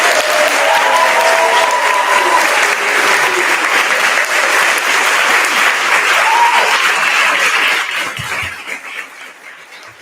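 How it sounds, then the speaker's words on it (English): Sustained applause from an audience at an elementary school fifth-grade promotion ceremony, steady and full for several seconds before tapering off. "Let's give them a round of applause."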